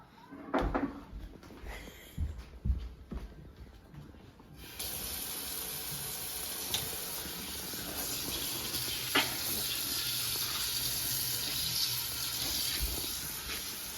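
Water from a kitchen sink tap runs in a steady hiss while hands are washed after cutting onions, preceded by a few clunks and knocks at the start.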